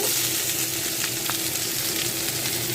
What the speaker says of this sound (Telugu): పచ్చిమిర్చి ఉల్లిపాయలు వేగుతున్నాయి కదండి